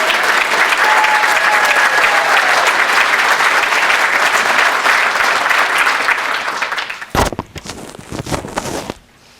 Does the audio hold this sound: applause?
yes